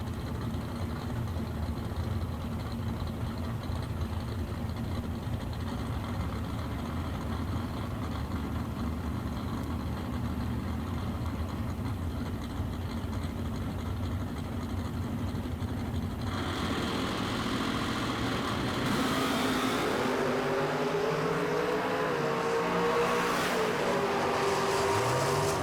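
Chevrolet Malibu and Camaro drag cars race at the Quaker City Big Buck Nationals, their engines a loud, continuous roar that swells and shifts pitch into rising and falling whines near the end.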